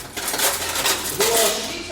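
Fork and knife clink against a plate at a restaurant table in Pristina, a quick run of bright metallic taps with a louder scrape midway, close and clear over faint room murmur.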